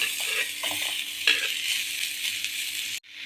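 Garlic cloves and chopped onion dry roasting in a pan without oil make a steady, close rustling sizzle with scraping stirs for about three seconds before it cuts off abruptly.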